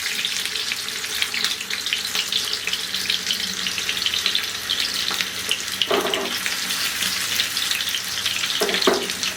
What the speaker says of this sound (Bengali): এখন এখানে তেল গরম করে এই আলুগুলাকে আমি একটু বাদামি করে ভেজে নিব